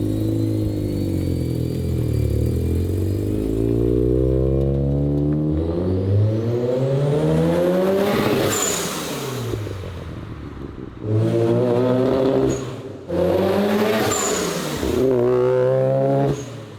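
Turbocharged car on a test drive after a fuel tuning change, its engine revving up and down through several loud rising and falling pulls, with brief lulls between bursts, close to the microphone.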